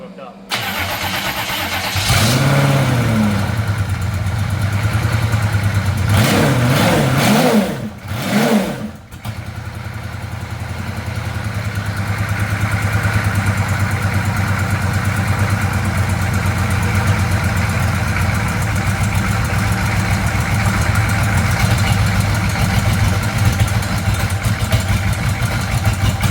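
A car engine idles steadily and evenly at close range, with a brief stutter and dip in the middle before settling back into a constant running drone. The car is a Chevrolet Caprice low-buck pre-runner with a newly installed engine.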